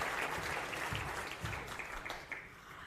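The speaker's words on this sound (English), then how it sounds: "Please give Angela another round of applause." Applause from a professional learning-day audience of engineers, a steady crowd of clapping heard at a moderate distance that thins slightly toward the end.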